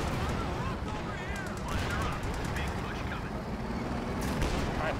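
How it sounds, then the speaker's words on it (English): Anti-tank gun fire and other weapons sound in Company of Heroes 2, with dense battle noise running throughout under steady voice chatter. "AT gun."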